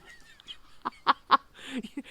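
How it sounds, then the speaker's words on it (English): Squeaky rubber chicken dog toy being chewed by a dog, giving three sharp honking squeaks in a row followed by a longer, rougher squeal, loud and close with a faint voice in the background. "He likes his squeaky chicken. Now it's going to squeak through the background of this."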